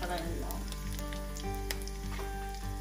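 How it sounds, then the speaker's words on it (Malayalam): Onions sautéing in a pan while beef deep fry is made, a soft continuous sizzle with light crackles, heard faintly under background tones and music-like hum. "നമ്മുടെ ഉള്ളിയൊക്കെ വഴന്നിട്ടുണ്ട്, ഇത് മതി."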